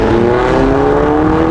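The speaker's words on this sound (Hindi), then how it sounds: "ये आ गई ऑडी टीटी।" Audi TT car engine heard up close, a steady loud hum with a slowly rising pitch as it rolls in, no talk over it.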